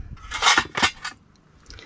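Stainless steel lunch box with cutlery inside, shaken in a few quick metallic rattling bursts, loud and close, then a faint final clink.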